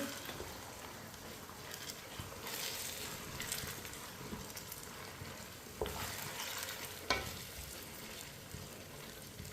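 A spoon stirs mint into Hyderabadi chicken biryani masala in a hot pan: a constant low sizzle with repeated scraping and a couple of sharper knocks against the pan, close and quiet.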